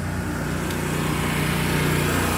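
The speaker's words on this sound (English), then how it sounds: "Got a mower coming over" A lawn mower engine runs steadily beside a cemetery gravestone, a continuous low drone that holds at constant loudness with no clear approach or fade, close by and unaccompanied by speech.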